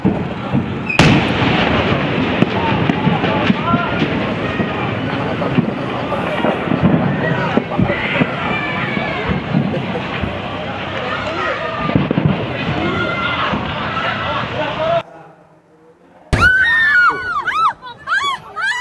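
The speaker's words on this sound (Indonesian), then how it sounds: "beberapa kali terdengar ledakan" Explosions at a burning ammunition warehouse at a military armory in Bekasi: loud crackling and booming blasts in continuous rapid bursts, with people shouting and talking throughout, a brief lull, then more blasts and voices.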